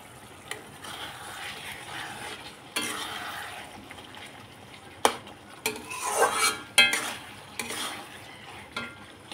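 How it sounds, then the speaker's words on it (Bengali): Food being stirred in a cooking pot with a metal spoon: intermittent scraping and clattering strokes against the pot, sharper rattling clinks in the middle, over a faint background sizzle, close by and without speech. "একটু নাড়াচাড়া করে দিলাম।"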